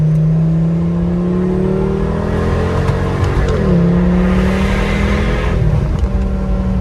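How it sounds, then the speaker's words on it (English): A 2011 Volvo S40 T5 with muffler and resonator deleted, its exhaust revving loudly up and down close by, a raspy drone that climbs, dips and climbs again. "I love this exhaust note"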